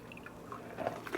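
Shriveled fermented berries and their juice are tipped into a strainer, giving faint, wet drips and soft squishy splatters at close range, a little busier toward the end.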